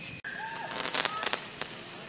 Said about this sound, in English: Found the source of the fireworks.